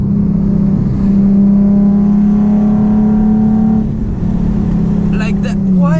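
A Nissan 370Z is driven hard through corners, its engine droning loud and steady from inside the cabin, then dipping and rising again as it comes back on throttle, with brief tire chirps near the end.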